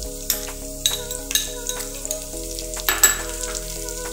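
Sausage and bacon sizzle steadily in a pan as half an onion goes in, a dense continuous crackle with stirring scrapes and small pops over a low background hum.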